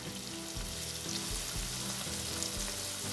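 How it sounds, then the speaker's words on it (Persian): Meat with turmeric, pepper and tomato paste fries in a pot with a steady close sizzle, broken by regular soft thumps of stirring about once a second. "رب رو خوب تفت میدم تا کاملا رنگ باز کنه"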